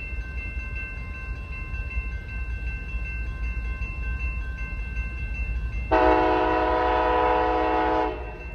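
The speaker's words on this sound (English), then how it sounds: "Sounds like Amtrak's horns." An Amtrak train sounds its horn at a railroad in Muncie, a loud multi-tone chord blaring for about two seconds after a long stretch of distant rumbling train noise.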